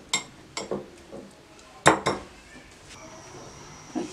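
Spoon clinking and scraping against a bowl while stirring eggless omelette batter, a series of sharp, close metallic taps spaced irregularly with quiet gaps between.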